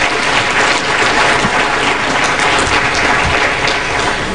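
Loud, sustained applause from an audience at an aviation investment forum, steady dense clapping filling the whole stretch without a break.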